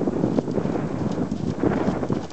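Hooves of a horse ridden at a walk, trot and canter, thudding steadily under gusty wind noise on the microphone, moderately close and fairly continuous.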